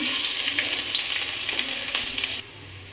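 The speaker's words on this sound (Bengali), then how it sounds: "রসুনটা একটু লাল করে ভাজা হবে তাহলে গন্ধটা সুন্দর বেরাবে" Crushed garlic with dried red chillies, bay leaves and whole cumin sizzles steadily in hot oil while being stirred, loud and close, with bursts of crackle before it drops to a quieter hiss near the end.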